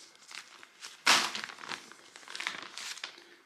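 A Norwegian Arctic field ration packet being opened, with crinkly plastic and foil rustling up close, one sharp tearing crackle near the start and then softer scattered crinkles.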